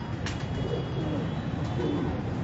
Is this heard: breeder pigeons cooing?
yes